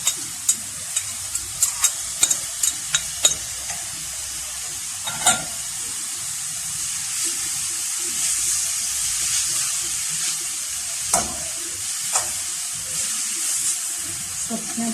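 Vegetables with cabbage and soy sauce being stir-fried for cheese kababs, a steady close sizzle punctuated by sharp clinks and scrapes of a utensil against the pan, with a voice speaking at times.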